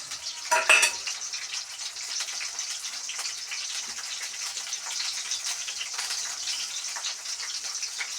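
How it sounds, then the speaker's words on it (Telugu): Onions hitting a hot pan for a chicken curry with broad bean seeds: a loud burst of sizzling at the start, then a steady, close crackling fry that continues evenly without any talking. "ఆనియన్స్ వేసేసుకోవాలి ఇందులో"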